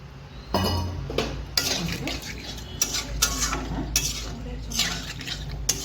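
Egg and potato being stirred in a pan as they fry, with a spoon scraping and clinking against the metal in repeated strokes over a low sizzle, close and fairly loud.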